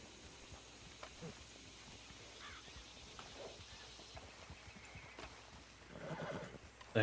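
A horse in a video game gives a clear whinny, with soft hoof clip-clops and steps around it at moderate distance.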